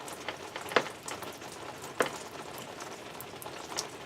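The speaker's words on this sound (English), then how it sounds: "It's raining." Steady rain falls outside on a dark evening, a soft continuous patter with a couple of sharper drips or taps standing out, fairly quiet and with no talking.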